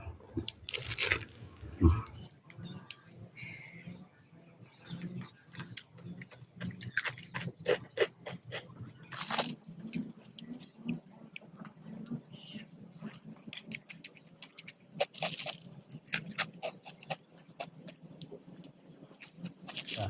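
Someone eating sticky rice with papaya salad. The close, wet chewing and biting sounds repeat steadily with occasional crunches, and a few faint voice sounds come through in the background.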